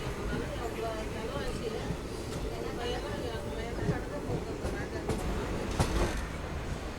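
An Erode–Jolarpettai passenger train rolls along with a steady broadband rumble and faint rail clatter, a sharper clank near the end, while a voice talks over it.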